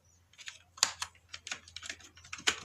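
Keys clatter on a computer keyboard as code is typed, irregular bursts of close, crisp clicks with a few sharper strokes, no voices.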